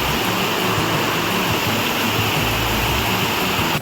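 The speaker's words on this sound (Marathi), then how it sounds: "वाघबीळ वॉटरफॉलला म्हणजे हे तिथूनच पाणी येतं आहे" Wagbil waterfall near Savarli village, Badlapur, roars as water rushes down rocks, a loud, unbroken broadband wash of falling water heard up close with no other sounds.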